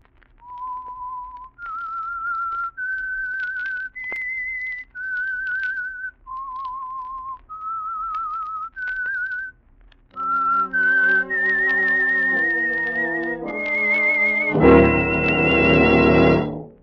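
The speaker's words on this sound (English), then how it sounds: "That whistle is your signal for the Signal Oil Program" A clear whistled melody of short sustained notes rising and falling, the theme of the 1947 radio drama The Whistler, then joined by a full orchestral swell that grows louder toward the end.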